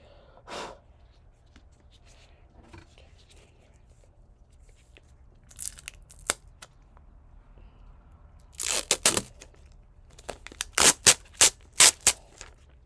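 Transfer tape being handled and torn in a crafting session for etching metal items: a quiet stretch with faint rustles, then a close crackling tear around the middle and a burst of sharp, separate ripping snaps toward the end.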